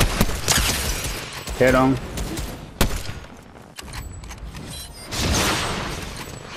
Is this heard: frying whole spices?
no